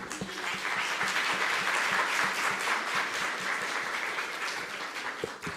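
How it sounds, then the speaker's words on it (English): Audience applause fills a hall at a county government keynote on health, a steady, dense round of clapping held at even loudness for several seconds before tapering slightly. "the entire county of Murang'a deserve another massive round of applause"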